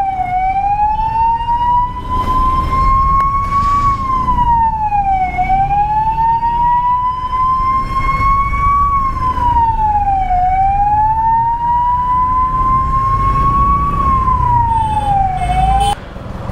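A loud wailing ambulance siren rises and falls in slow repeated cycles, close by, over a low rumble of traffic and engines.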